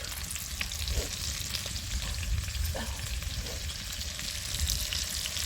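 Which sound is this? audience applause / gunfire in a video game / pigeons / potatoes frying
potatoes frying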